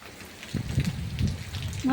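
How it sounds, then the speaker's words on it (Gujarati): Steady heavy rain hisses close by, with a voice speaking over the downpour. "જો વરસાદ જોરદાર વરસાદ છે"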